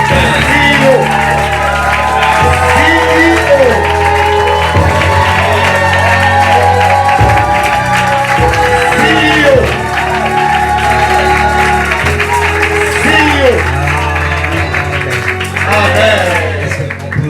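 A church congregation cheers, shouts and whoops loudly and continuously in a crowded hall, a steady roar of voices with some clapping, as a preacher is welcomed forward.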